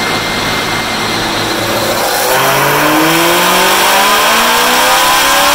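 A Chevrolet Camaro ZL1 V8 revs up loud and close on a rear-wheel dynamometer, its engine note climbing steadily in pitch through a hard full-throttle pull.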